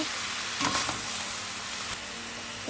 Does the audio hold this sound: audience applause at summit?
no